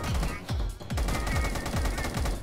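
Light machine gun fire in the Roblox game Da Hood, about six evenly spaced loud shots in quick succession, each with a short low thump.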